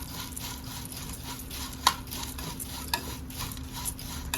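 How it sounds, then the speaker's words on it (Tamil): Flattened rice (poha) is dry-roasted in a pan on a low flame, a soft steady rustle with a spatula stirring and occasional light clinks against the pan. "கொஞ்சம் சிம்மில் வச்சு தான் வறுக்கிறோம்."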